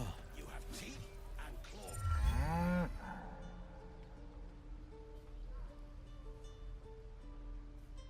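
A cow moos in the video game Baldur's Gate 3, a long low bellowing call that swells loudly around the middle, with in-game ambience and someone talking over it.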